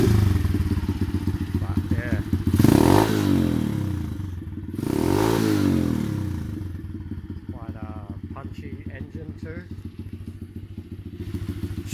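A Honda CT110 motorcycle fitted with a Zongshen 125 engine idles steadily and close, a smooth low putter with a couple of brief swells midway and a voice talking over it.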